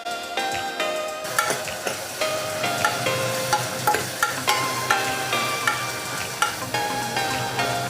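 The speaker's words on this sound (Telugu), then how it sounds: "ఉల్లిపాయ ముక్కలు పచ్చిమిర్చి ముక్కలు వేసుకొని వేయించుకోవాలి" Sliced onions and green chillies fry in hot oil with turmeric, sizzling steadily while a spoon stirs the pan in a regular rhythm of scraping knocks, close and alone.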